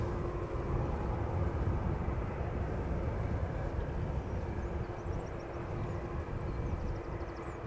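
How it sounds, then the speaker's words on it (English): Croatia Airlines Airbus A319 arriving from Zagreb at Amsterdam Schiphol, a faint steady distant jet rumble with a thin tonal hum, no one talking. "behind me there's an A319 from Croatia Airlines arriving from Zagreb"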